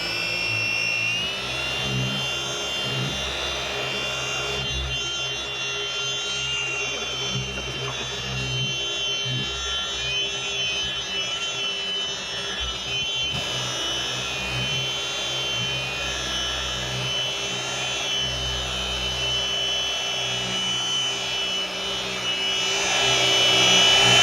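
A machine polisher fitted with a Lake Country orange pad works over car paint during a mobile exterior detail. Its steady, close-up motor whine drones without a break, with a slight swell near the end.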